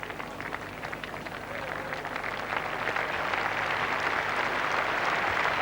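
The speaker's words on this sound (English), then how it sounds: "So the applause for Kepler Vessels" Dense crowd applause at a 1985 England v Australia cricket Test match at Headingley, a steady wash of many hands clapping that builds slightly and holds, heard from a distance with faint talk beneath.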